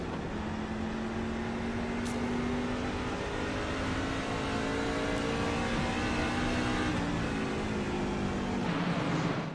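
Onboard cockpit sound from the number 21 race truck in a Stars & Stripes Truck Series race at Lucas Oil IRP, a loud, continuous engine drone holding steady pitch with slight rises, close and without talk.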